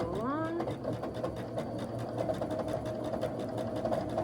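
A sewing machine stitches across a quilt block in a continuous, even hum with a rapid needle rhythm, close and fairly loud, with a brief tonal whine at the very start.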